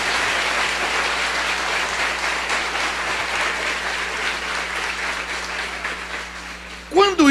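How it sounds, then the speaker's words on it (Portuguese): A church congregation at an evangelical service applauds, a dense sustained clapping from many people throughout, with a voice starting to speak at the very end. "Quem pode dar um aplauso ao Rei dos Reis e Senhor dos Senhores?"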